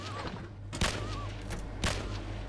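Two sharp bursts of gunfire in the video game Empyrion - Galactic Survival ring out about a second apart over a low steady hum, with a faint electronic warble between them.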